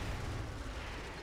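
Explosions in Sniper Elite 4 form a brief, loud, continuous rumbling blast with heavy low-end boom and broadband roar, no voices over it.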